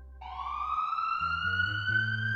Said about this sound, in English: Lastly, this is an ambulance.